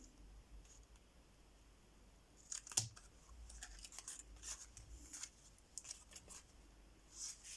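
Scissors snipping paper for vintage-style album pages, a few quiet crisp cuts scattered through a hushed room, with one sharper snip standing out near the middle.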